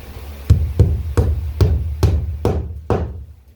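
A hammer tacking down plywood being glued with epoxy, heard as seven evenly spaced sharp knocks, close and loud, against a low steady background hum.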